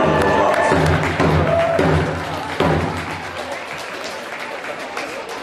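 Audience at a Vietnam veterans wacipi powwow bursts into loud, dense applause with some cheering, holding strong for a couple of seconds and then tapering gradually.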